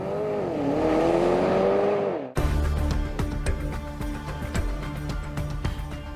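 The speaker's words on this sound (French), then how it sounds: "Ils choisissent ce modèle pour ce qui se passe quand on colle la pédale d'accélérateur au plancher" A Porsche Panamera at full throttle starts with an engine note rising through a gear, then cuts to a busy, rumbling mechanical clatter with repeated sharp ticks and knocks, loud and close throughout.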